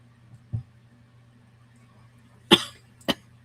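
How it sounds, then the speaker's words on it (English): A couple of sharp coughs sound near the end, preceded by a small throat noise, over a quiet low hum. "I got a cough all of a sudden"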